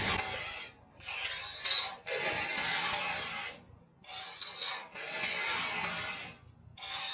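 A hand file rasps across a chainsaw chain in about five long, even strokes separated by brief pauses, close and clear with no voices.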